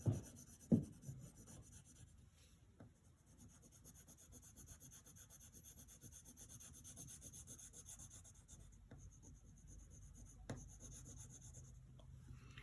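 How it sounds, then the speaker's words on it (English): A pencil shades on paper using the side of the lead, a quiet, soft scratchy rubbing that continues for several seconds with light strokes, a couple of sharper taps and no speech. "take the side of your pencil and shade in those eyebrows black"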